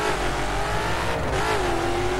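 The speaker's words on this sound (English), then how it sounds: "Doesn't sound like a legit Agera though." A Koenigsegg Agera R engine in the video game The Crew revs hard and steadily, a loud continuous roar with pitch rising and dipping slightly, close up.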